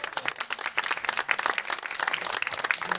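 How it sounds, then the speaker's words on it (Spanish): A large audience at El Castillo del Pinar claps in sustained, dense applause for Víctor Morata, loud and continuous from start to finish with no voices over it. "Un aplauso grande."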